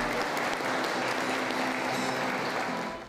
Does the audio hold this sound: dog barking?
no